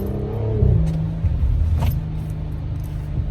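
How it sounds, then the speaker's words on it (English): An Audi B9 with an ECS Tuning X-pipe exhaust idles in comfort mode with baffles closed, a deep, steady, muted exhaust rumble and low engine drone, fairly close and even throughout, with no talking. "With the baffles closing, the car does sound very subdued and extremely tolerable"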